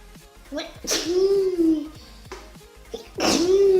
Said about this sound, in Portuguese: Espirrei.